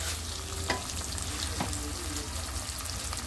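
Spices such as coriander powder, turmeric and salt frying in a pan for pasta, with a steady close sizzle and a few soft stirring scrapes, no talking.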